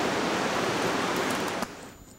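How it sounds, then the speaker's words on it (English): Water pours steadily down a waterfall inside an ice cave, a loud, dense rushing wash that fills the space and then drops off sharply to a quieter trickle. "I can hear the water going down, and now we got a waterfall."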